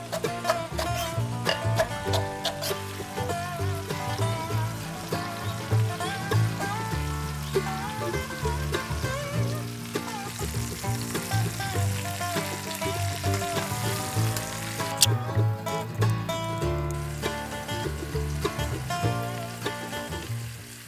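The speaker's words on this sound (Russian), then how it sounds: "подрумяню мясо со всех сторон" Beef browns in a hot pan, sizzling and frying steadily with a continuous crackling hiss and no talking.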